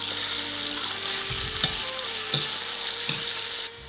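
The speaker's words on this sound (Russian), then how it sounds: "Масло разогрелось, можно начинать жарить мясо." Steady sizzling of meat frying in hot oil for lagman, with a few soft thumps and stirring scrapes breaking through the hiss.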